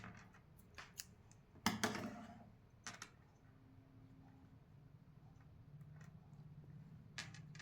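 Scissors snipping through crochet yarn, a few sharp close clicks and cuts in quick succession, then a quieter pause and one more faint snip, with no voices.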